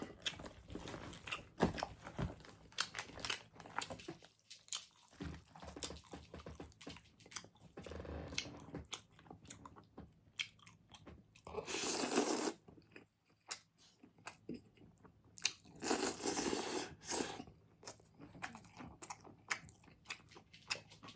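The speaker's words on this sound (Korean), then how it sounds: "자 이제 국수도 먹어보도록 하겠습니다" Someone eats spicy mixed noodles with onion, close to the microphone. Wet chewing and slurping mix with occasional crisp crunches in uneven bursts, with no talking.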